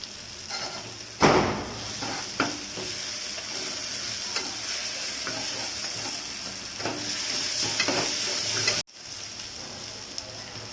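Onion and tomato masala with mint and turmeric sizzles steadily in a pan for a Chennai vada curry, with scraping stirs and spoon knocks breaking through the continuous frying hiss.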